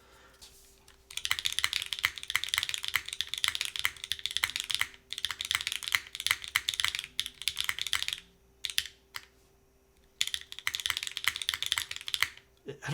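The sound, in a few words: typing on Agar mechanical keyboard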